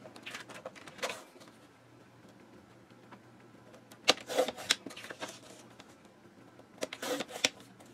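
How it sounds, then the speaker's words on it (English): Paper is trimmed into 4-inch strips with a paper cutter in a crafting setting, giving short bursts of crisp slicing and rustling separated by quiet pauses, close and moderately loud with no talking. "So you're just going to cut all your pieces of paper in 4-inch strips."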